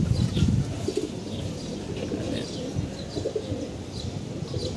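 Young pigeons coo repeatedly and chirp over a low rumble, with wings fluttering as the flock takes off, moderately close and steady throughout.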